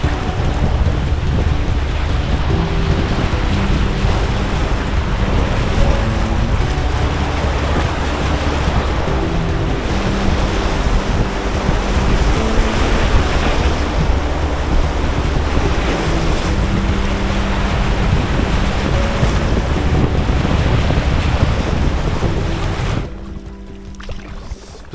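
Whitewater rapids roar during a canoe descent on a wild river between Norway and Sweden, a loud, dense and continuous rush of water with wind buffeting the microphone, then dropping off abruptly near the end.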